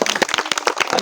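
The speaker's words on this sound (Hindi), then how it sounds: "ताली बजा दो।" Audience applause at an outdoor village street magic show, a short burst of dense, fairly loud clapping from a crowd with no voices over it.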